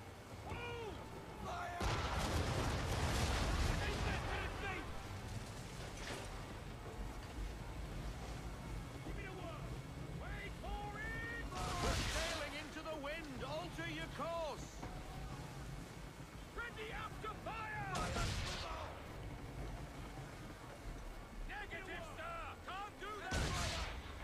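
Naval cannon fire from a ship in Assassin's Creed 3, several heavy booming volleys spaced apart over wind, creaking timber and rushing waves, with shouted orders and talk between the shots.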